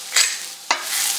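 Seasoned mushrooms tossed in a hot frying pan, a steady sizzle broken by two quick scraping stir strokes, close and fairly loud, with no voices.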